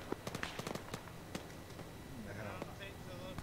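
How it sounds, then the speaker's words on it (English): Rapid sharp gunshots in a video game crack in a scattered burst, some near and some farther off, under ongoing talk. "We're taking gunshots."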